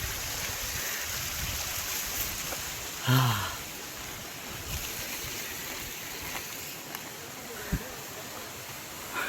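A waterfall on Harishchandragad fort produces a steady broadband rush of falling water that holds level throughout, with a few faint knocks and bumps scattered across it.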